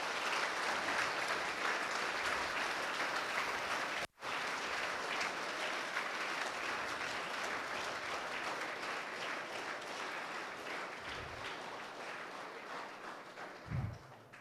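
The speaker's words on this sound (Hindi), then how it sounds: "एक बार जोरदार तालियां हो जाए" At a school event at Vishnu Vidhya Niketan in Jaipur, a crowd gives a guest a long round of loud applause. It cuts out for an instant near the start, then carries on steadily and fades a little toward the end.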